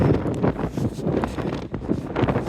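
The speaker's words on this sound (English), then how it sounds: "The wind's blowing, man." Wind gusts buffet the microphone in a steady broadband roar on an Appalachian Trail hike near bogs, rising and falling without pause.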